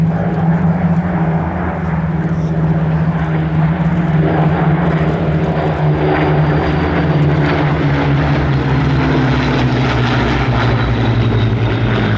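Vintage warbird, a 1935 de Havilland aircraft, flying at Sywell Airshow, with a loud, steady propeller-engine drone whose pitch slowly falls as it passes close by.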